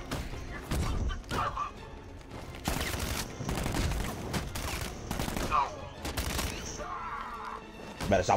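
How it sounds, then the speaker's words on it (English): Rapid gunfire from militia troops in the video game Batman: Arkham Knight, with repeated bursts and volleys crackling through most of the scene, close and loud, with someone talking over parts of it. "Better stop fucking shooting me."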